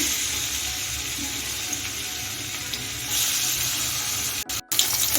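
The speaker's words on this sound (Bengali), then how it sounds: "কড়াইতে আমি এক টেবিল চামচ সাদা তেল দিয়ে দিয়েছি এখন চিংড়ি মাছটা আমি ভেজে নেব" Shrimp frying in a tablespoon of white oil in a wok, a steady close sizzle with a brief dropout near the end and no talking.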